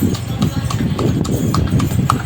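Horses' hooves clip-clopping on a road in Tayabas, where horses haul loads of wood: a loud, close, steady patter of overlapping hoofbeats from several animals.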